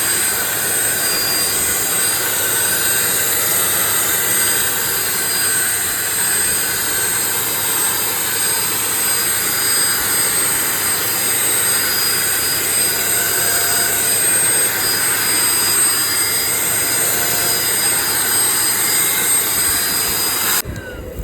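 A steady, loud whir from an Agaro mini vacuum cleaner running continuously without a break, a constant high-pitched motor hiss that cuts off right at the end.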